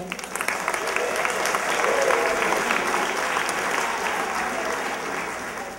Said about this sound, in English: raise your hand so we can applaud you